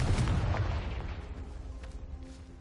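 Confringo fire spell exploding in the Hogwarts Legacy video game, a loud booming blast with a rumbling, crackling tail that slowly fades over a couple of seconds.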